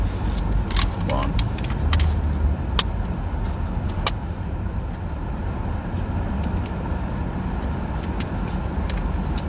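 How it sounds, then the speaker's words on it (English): Steady road traffic of passing cars rumbles continuously outside the state capitol, a dense broadband wash with occasional sharp clicks and rattles, with a person talking over it throughout. "this traffic is terrible"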